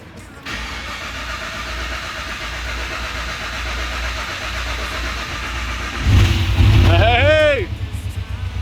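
A K5 Blazer engine starting for the first time cranks and catches, settling into a steady rumbling idle before revving louder near the end as a voice calls out over it.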